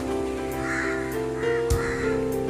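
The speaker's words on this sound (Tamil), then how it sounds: "காக்கா இப்போ எப்படி வரும் பாருங்க" Crows caw repeatedly as they arrive to eat leftover food waste outdoors in Kanyakumari. Several harsh calls come in irregular bursts over a steady low background hum.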